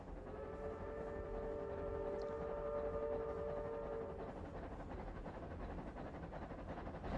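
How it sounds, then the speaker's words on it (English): A distant train approaches in the video game Uncharted 2: a steady low rumble with a sustained whistle-like tone through the first four seconds, then the rumble continues alone, fairly faint. "So you should be able to hear the train"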